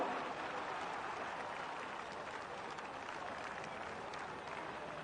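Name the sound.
racecourse crowd applauding at Kempton Park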